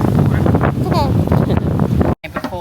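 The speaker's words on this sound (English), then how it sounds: "it's super windy" Strong wind buffets the microphone by a river, a loud steady roar throughout, with brief bird chirps and a sudden dropout near the end.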